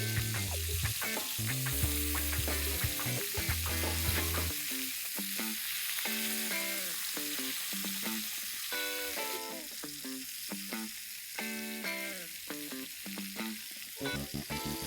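Chicken pieces fry in oil in a covered pan, giving a steady, even sizzle that runs the whole time, with melodic tones layered over it and no talking.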